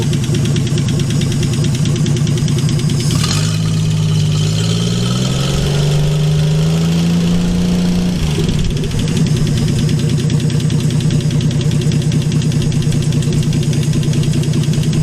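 A worn 1951 Hudson Hornet engine runs loud and steady throughout, with a rising whine from the alternator in the middle stretch and a knocking idle beneath.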